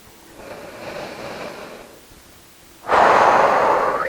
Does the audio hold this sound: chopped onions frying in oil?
no